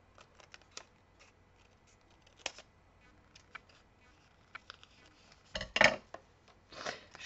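Scissors cutting A4 paper sheets for an album, with soft intermittent snips and paper rustles at close range, quiet and sparse, louder crisp cuts near the end, no speech.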